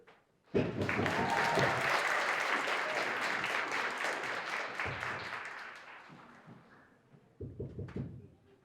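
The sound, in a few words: audience clapping as Tommy comes to the stage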